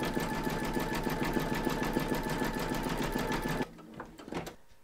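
An embroidery machine stitches a zigzag seam joining segments of an in-the-hoop crazy patch quilt block, a fast steady mechanical rattle that runs evenly, then stops abruptly near the end, leaving a few faint clicks.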